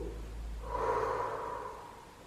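A single long, steady exhale blown out during a thigh and glute workout, rising around the middle and fading slowly, close and moderately loud with no talking.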